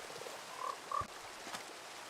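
Frogs croak in the Minecraft video game, two short soft croaks a fraction of a second apart, faint against a quiet background.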